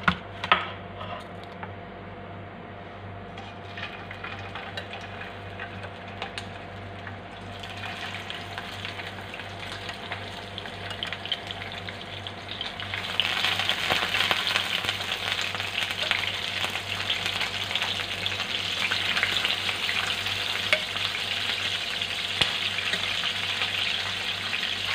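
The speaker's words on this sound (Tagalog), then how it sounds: "Medyo mainit na yung kawali natin. Mag-start na po tayo magprito." Fish frying in hot cooking oil in a pan on a Filipino home stove, a steady close sizzle and crackle that grows noticeably louder and brighter partway through, with no voices over it.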